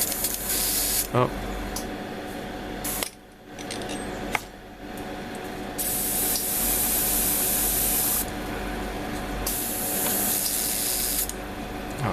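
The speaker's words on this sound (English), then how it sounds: "let me do a little test squirt here" An airbrush spray gun hisses out test bursts of paint near a 1:72 Italeri Su-34 Fullback model kit: several loud, close, sustained hissing sprays with short breaks between them and a brief exclamation from a voice.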